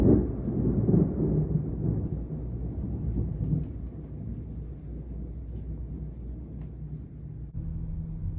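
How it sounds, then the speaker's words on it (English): A heavy thunderstorm outside, with a low continuous rumble of thunder and rain, louder at the start and then settling into a steady roar, with no talking. "It's storming really bad outside, and I absolutely hate storms."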